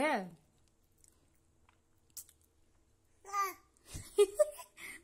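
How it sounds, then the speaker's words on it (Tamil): A baby chewing and biting a crunchy murukku snack, with soft intermittent bites and crunches between babbling and brief adult talk at home. "அக்னிசா முறுக்கு கடிக்கிறாங்க"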